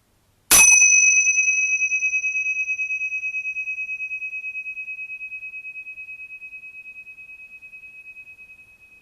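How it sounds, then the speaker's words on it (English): One meditation bell struck once rings out clearly, its pure tone lingering and slowly fading with a gentle wavering over several seconds. "And at the sound of the bell,"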